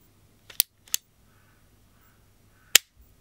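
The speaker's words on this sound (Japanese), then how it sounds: "ダブルアクションで一回空打ちしちゃいましょうか。" A Tanaka Works M1917 Hand Ejector model gun, a four-inch heavy-weight replica revolver, is dry-fired in double action: two light mechanical clicks, then a pause and a single sharp metallic snap, close and isolated.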